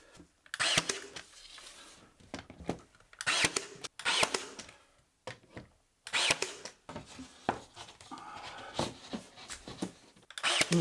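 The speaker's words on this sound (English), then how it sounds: "Then I can fix it with this little brad nailer." A small brad nailer fires pins to fix a plywood plinth between two IKEA PAX wardrobes, giving several sharp bursts in uneven clusters with short gaps between them.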